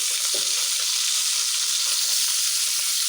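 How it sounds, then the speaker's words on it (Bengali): Fish frying in oil inside a cooking pot, a steady loud sizzle running throughout with one brief low clunk near the start, no voices. "আমি পাতিলের মধ্যেই মাছ ভাজবো"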